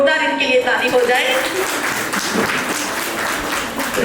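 An audience at a farewell ceremony applauds in a steady, moderately loud wash of clapping, with a voice speaking over it at the start.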